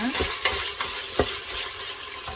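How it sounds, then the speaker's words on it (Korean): Constant hissing sizzle of chili powder stir-fried in hot oil for Korean yukgaejang, with occasional scrapes and taps of a utensil stirring. "고추기름이 나올 때까지 이렇게 충분히 볶아주시는 게 포인트입니다"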